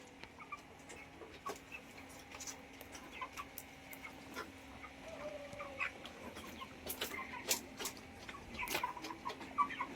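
Broiler chickens cluck and murmur continuously in a crowded flock in a shed in winter, with scattered louder calls and rustling against a steady background hum.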